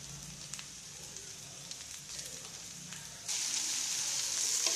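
Okra softened in a pan sizzles and fries steadily while salt is stirred through it, the hiss growing louder and brighter partway through, close and continuous with no voices.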